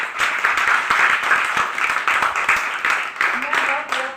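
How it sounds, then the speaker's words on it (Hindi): An audience at a Hindi department address in a women's college claps in bursts of dense applause, with a brief voice toward the end. "इसके लिए आप लोग जम के तालियां बजाइए"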